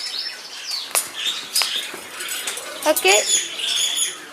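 Parrots in a pet shop let out sharp, scattered chirps and squawks among rustling, with a person speaking briefly nearby.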